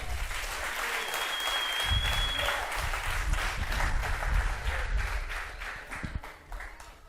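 Sustained applause from a large crowd at a church service, steady and loud throughout, fading slightly at the end.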